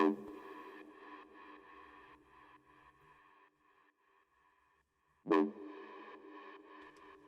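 A sustained Serum synth chord swells with a sidechain-ducked reverberant wash that pumps and dips rhythmically, fading out before a sharp new hit brings the chord back.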